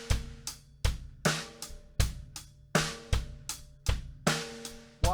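A drum kit plays a syncopated eighth-note groove with snare on two and four and bass drum on the and of two and three, with crisp hi-hat and punchy, close, loud hits and no voices.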